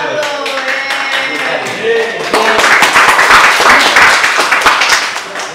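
Several people clap together in a small room at the close of a school podcast featuring a student council head, a burst of dense clapping following a stretch of voices.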